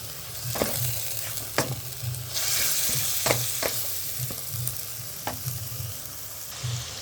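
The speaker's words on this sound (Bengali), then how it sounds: "দিয়ে সুন্দরভাবে হালকা করে ভেজে নেব।" Chicken seasoned with salt and a little turmeric frying in a pan for chow mein, a continuous sizzle broken by repeated scrapes and clinks of a stirring spoon, with no talking.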